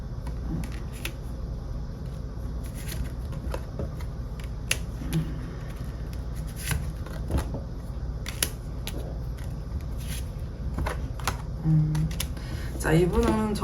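Tarot cards are shuffled and drawn, producing scattered soft clicks and papery snaps over a quiet room tone, with a flurry of card handling near the end.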